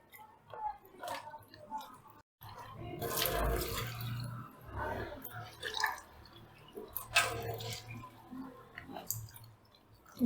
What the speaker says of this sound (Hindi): अब इसमें इतना पानी डाल दें कि ये सारे डूब जाएं अच्छी तरह।